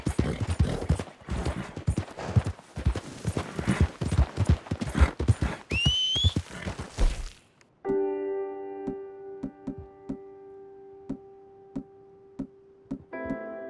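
Horse hooves clip-clop at a steady pace in Red Dead Redemption 2, dense and close for several seconds with a brief whinny-like tone, then stop and give way to sustained game music tones with scattered soft clicks.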